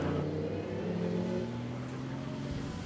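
A historic racing car that ran at Brooklands in the 1930s climbs the Chateau Impney hill, sliding sideways into the carousel roundabout. Its engine gives a steady, throaty drone at moderate distance, holding a near-constant pitch throughout.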